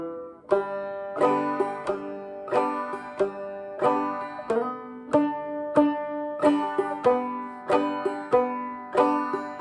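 Bright plucked clawhammer banjo notes in a steady, bouncing rhythm, each strike ringing briefly before the next, played alone with no voices.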